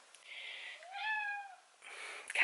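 A house cat meows indoors during a bedroom renovation, giving a few short, clear calls close by, one rising and falling wail in the middle, with quiet pauses between.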